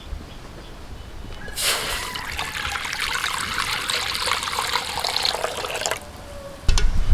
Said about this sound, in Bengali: এখন কড়াইতে দিয়ে দিচ্ছি জল।